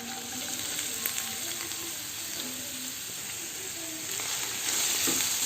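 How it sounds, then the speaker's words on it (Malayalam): Chopped ginger frying in hot coconut oil for puli inji, a steady, moderately loud crackling sizzle that swells slightly near the end, heard alone without talk. "എണ്ണ നന്നായിട്ട് ചൂടാക്കി കഴിയുമ്പോൾ നമ്മൾ അരിഞ്ഞു വെച്ച ഇഞ്ചി ഉണ്ടല്ലോ അത് ചേർത്ത് കൊടുക്കാം."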